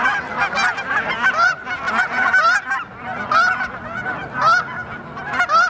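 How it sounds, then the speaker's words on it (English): Flock of geese at a winter lake with open water, birds used to people, honking loudly and continuously in a dense overlapping chorus of many nearby calls, with no talking. "A lot of those waterfowl are going to be geese."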